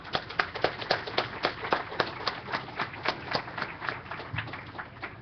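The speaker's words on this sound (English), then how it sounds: "So let's give everybody a round of applause." Small audience at an early television convention applauds in a loose round of sharp, uneven claps, fairly close and steady for several seconds with no talk over it.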